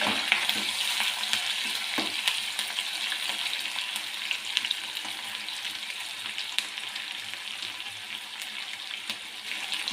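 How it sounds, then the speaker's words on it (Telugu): Onions frying in a pan sizzle steadily and close up while a spoon stirs them, with scraping strokes and occasional sharp pops over a continuous hiss. "ఆనియన్స్ మొత్తం వేగే వరకు కుక్ చేసుకోవాలి"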